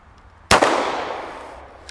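A Glock Gen 6 pistol fires a single mud-fouled round: one sharp, loud report followed by a decaying echo tail, with no talking.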